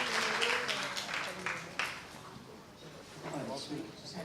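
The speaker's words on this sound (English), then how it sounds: "Can we give them a round of applause" Applause at a book launch event, clapping that swells and then thins out while voices talk and call out over it.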